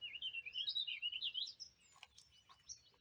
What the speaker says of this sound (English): Let the birds sound cool.